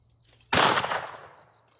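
A single shotgun blast fired at a long-range clay target, a sharp loud report with a short decaying tail, heard alone after near silence.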